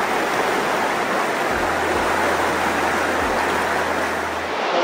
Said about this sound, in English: A refresher stop on the beautiful river